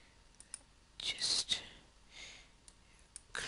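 Sharp, isolated computer mouse clicks while working in Adobe Flash CS3: several crisp, close clicks spaced out over a few seconds, with a brief burst of quiet talk partway through.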